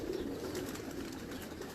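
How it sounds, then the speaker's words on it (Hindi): Pigeons cooing steadily at close range, a continuous low murmur of overlapping coos with no talk. "आपको दिखा रहे हैं कबूतर"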